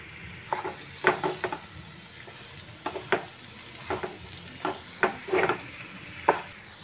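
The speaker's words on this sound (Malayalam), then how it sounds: "ഇനി ഇതിലേക്ക് നമുക്ക് 4 പച്ചമുളക് നടുകീറിയതും പിന്നെ 2 തണ്ട് കറിവേപ്പില ഇട്ടിട്ട് നല്ല പോലെ ഇത് മിക്സ് ചെയ്ത് കൊടുക്കാം" Chicken stirred in a pan with slit green chilies and curry leaves, a spoon scraping in irregular bursts of clatter and light sizzle, close and moderately loud, no talking.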